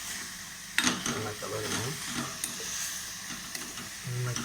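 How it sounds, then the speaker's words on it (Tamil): A spoon stirs sugar into simmering beetroot jam in a pan, giving a steady scraping and bubbling hiss with soft clinks near the start, up close and continuous, with no talk over it. "இந்த ஜீனியை போட்டு நல்லா சேர்த்து விட்டு நல்லா கலரணும்"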